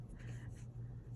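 A pen scratches across planner pages in short, soft strokes, close but quiet, over a low background hum.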